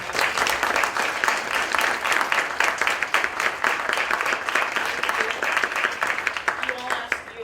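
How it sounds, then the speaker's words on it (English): Sustained applause from an audience at a university Senate meeting, a dense, even wash of many hands clapping at moderate loudness, with a few voices faintly beneath it. "a big round of applause to Dean Ramsey."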